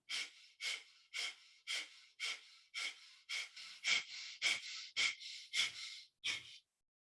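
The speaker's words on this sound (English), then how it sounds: "Go ahead and take a big inhale and begin breath of fire now." Breath of fire from a kundalini yoga kriya: a steady run of about a dozen sharp, rhythmic nasal exhalations, close and fairly quiet, getting slightly quicker toward the end, with no talking.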